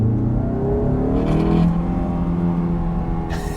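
A Honda S2000 engine with its airbox removed revs steadily and loudly up close, a dense, continuous intake and engine roar rising and holding with no talking.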